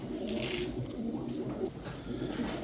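Pigeons coo softly and repeatedly in low, rounded murmurs, close by, with faint rustling in the background.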